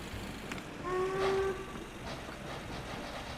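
A train runs in the OpenLoco video game, rumbling faintly and steadily, with a short whistle tone in the middle.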